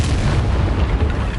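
A Confringo spell explosion in Hogwarts Legacy, a loud, dense boom that fills the whole moment with a heavy rumbling burst.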